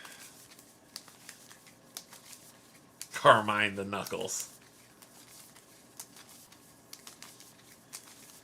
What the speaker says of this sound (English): Shuffling up.